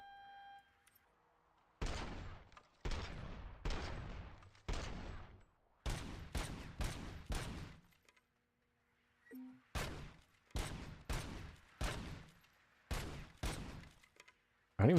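Gunfire from a modified, upgraded gun on a shooting range in RoboCop: Rogue City, sounding as loud, sharp bursts of rapid shots in groups of two to four, separated by short pauses and reload gaps, with no talk.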